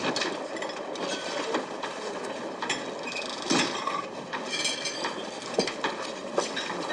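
A train pulls into a station platform with a dense, steady rattle and clatter of wheels and carriages, punctuated by squeaks and metallic clanks, with no talking.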